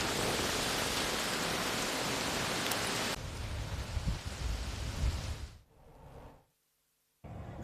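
Heavy rain pours in Vikasnagar, Uttarakhand, after a strong storm, a dense steady hiss that fills the scene, then thins and drops to a brief silence before resuming.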